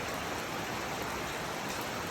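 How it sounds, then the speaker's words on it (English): Steady rain falls outside a home studio building, a continuous even hiss of drops on surfaces with no distinct individual patters, moderately quiet and unbroken with no voices. "It is raining outside."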